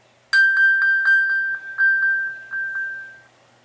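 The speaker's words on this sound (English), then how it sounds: "You can even ping your cell phone." An iPhone pinged remotely from an Apple Watch Sport in Space Grey sounds a clear, high electronic chime. It repeats about a dozen quick pulses over a steady tone, close and loud, with no talk.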